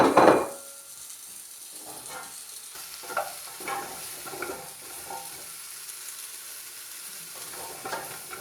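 Butternut squash and carrots tip into a hot pan with a loud opening clatter and hiss, then settle into a faint, steady sizzle with occasional soft scrapes and stirs. No voices.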